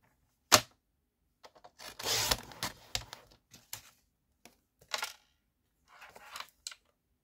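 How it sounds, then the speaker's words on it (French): Something is being cut by hand at close range. A sharp click comes first, then a few crisp snipping and scraping bursts scattered between quiet pauses, with no talking. "on va couper d'abord ici. Voilà. Et on va couper là."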